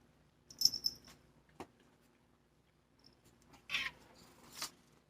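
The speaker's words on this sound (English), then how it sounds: "This is our 18-year-old cat." An 18-year-old cat gives a few soft, short meows from close by in a quiet room, spaced out with silent gaps.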